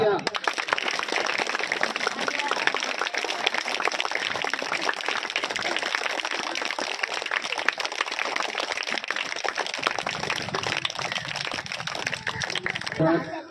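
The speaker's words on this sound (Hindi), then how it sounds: "तालियां।" Audience applause at a village school celebration in Samnapur, a dense, steady clatter of many hands clapping that holds loud for about thirteen seconds and thins slightly near the end.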